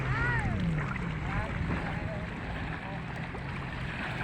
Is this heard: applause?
no